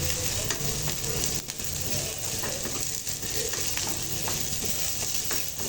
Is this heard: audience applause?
no